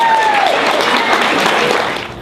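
Audience applauding a speaker at an Ambit Energy training event, a dense burst of clapping that fades out over about two seconds, with a faint tone at the start.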